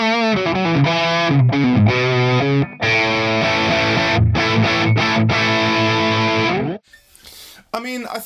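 Electric guitar playing a heavily distorted riff through a ToneX One amp-modelling pedal, loud and sustained with dense harmonics and a few brief gaps, ending in a short quieter tail and a final strum.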